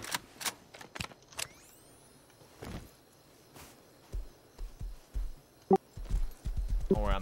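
A horse's hooves clop in scattered, uneven strikes, some sharp and close, mixed with thuds and a brief rising whine, the steps irregular as the horse shifts about rather than walking steadily.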